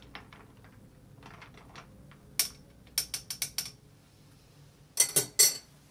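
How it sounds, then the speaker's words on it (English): A highball of craft cola and Agwa de Bolivia is stirred in the glass, giving short bursts of bright clinks and rattles, a quick run of taps in the middle and a louder cluster near the end, with no one speaking. "Let's give it a stir to mix"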